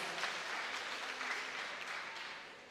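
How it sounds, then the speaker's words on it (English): Faint, continuous applause from parents and guests at a primary school graduation ceremony, an even wash of clapping that slowly fades. "Give them a round of applause"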